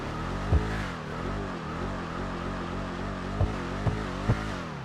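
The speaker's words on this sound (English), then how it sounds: "it definitely sounds like a V8" Imponte Ruiner ZZ-8 V8 engine in GTA 5, a deep harmonic burble whose pitch rises and falls with throttle, running steadily with a few short sharp pops or clicks scattered over it.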